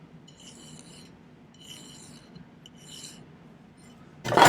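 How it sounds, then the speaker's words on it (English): A small metal file rasping across the end flap of a tiny jewelry bezel in three short, faint strokes, followed by a sudden louder knock or handling noise at the end. "let me file the end flap first"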